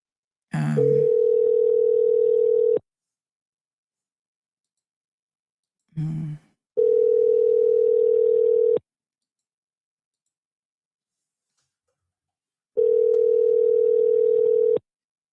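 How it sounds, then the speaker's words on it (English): A telephone line tone sounds during a phone call as three long, steady beeps, each about two seconds, separated by silent gaps. Short breathy sounds come just before the first two beeps. "Sandra, don't call my phone"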